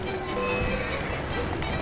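Horses drawing a carriage at a gallop in Assassin's Creed Syndicate, rapid clip-clop hoofbeats with rattling wheels and a neigh, loud and continuous over a busy game soundscape.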